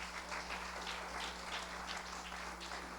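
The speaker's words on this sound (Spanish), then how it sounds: "¿Por qué no le da un aplauso al Señor?" Church congregation applauding during a sermon about the crucifixion and resurrection, a steady wash of clapping at moderate level with a low electrical hum beneath, no voices.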